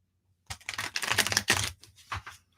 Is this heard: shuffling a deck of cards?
yes